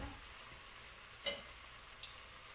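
Chicken cooking in a pan for chicken Dijon, a steady faint sizzle and fry with a brief louder crackle partway through and a smaller one near the end, no one talking.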